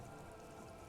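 Steady rain falls in the Disco Elysium video game, a soft, even hiss of drops on a surface with no breaks, fairly quiet and continuous throughout.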